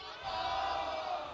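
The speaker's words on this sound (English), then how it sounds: "let's do a little bit of a cheer" Crowd at an esports world championship event chanting a team cheer in reply to a host, a broad sustained roar of many voices filling a large arena for about a second.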